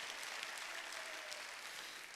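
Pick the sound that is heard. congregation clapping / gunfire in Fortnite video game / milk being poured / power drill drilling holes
congregation clapping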